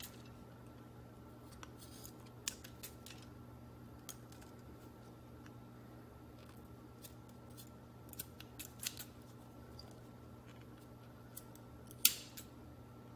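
Scissors trim the edges of aroma beads in a quiet room, scattered sharp clicks and cuts at irregular intervals over a steady low hum, with a louder snip near the end.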